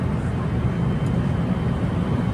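Constant low engine drone and air rush inside an airplane cabin at night at 35,000 feet on a London to Australia flight, steady and unbroken throughout.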